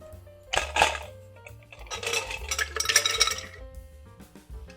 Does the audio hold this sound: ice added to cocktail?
yes